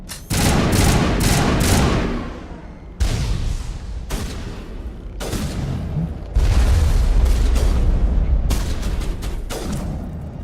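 Mass Effect 1 combat with heavy, booming gunshots and blasts arriving in separate loud bursts, each sharp crack trailing into a rumbling echo, several shots spread over ten seconds with no talk.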